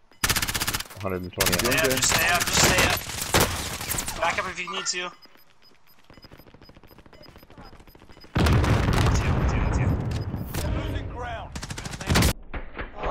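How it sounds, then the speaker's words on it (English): Video game gunfire from a squad firefight at a bunker: bursts of automatic weapon fire and sharp shots in loud clusters, a quieter lull in the middle, then heavy fire returns, with players talking over the action. "And you got gunfire back here behind you."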